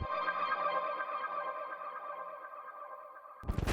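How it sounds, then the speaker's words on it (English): Fade-in sound effect in a trap beat production: a sustained, hollow, echoing synthetic tone with a ringing, sonar-like shimmer holds steady and then cuts off abruptly into a brief burst of noise at the end, fairly faint. "we're going to add a little fade-in sound effect"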